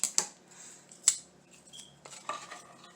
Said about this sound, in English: And they're easy to cut with your scissors.